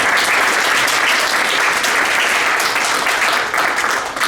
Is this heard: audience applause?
yes